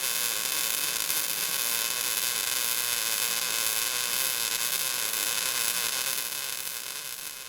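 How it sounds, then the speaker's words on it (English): Steady MIG (gas metal arc) welding arc running along a joint, a continuous dense crackling hiss held at close range with no pauses, tapering slightly at the end. "Keep the nozzle at a fixed angle and listen to the weld."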